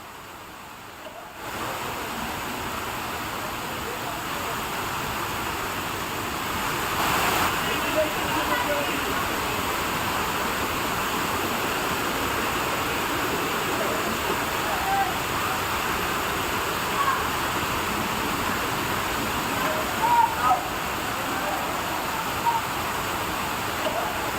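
Floodwater rushes through flooded streets of Jodhpur during heavy monsoon rain, a steady, loud wash of noise that runs on without a break.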